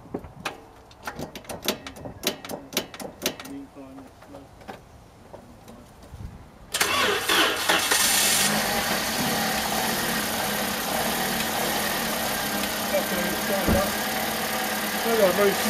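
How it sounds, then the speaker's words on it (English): A small car engine, around 1.6 litres, is cranked and catches abruptly partway through. It then settles into a steady, loud idle that continues to the end, after a stretch of clicks and handling noises. "I've never started this car up, so make sure it's in neutral"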